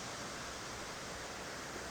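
Magajahalli Abbi Falls near Sakleshpura, swollen with muddy reddish water after heavy rain, gives a steady, dense roar of falling water that never lets up.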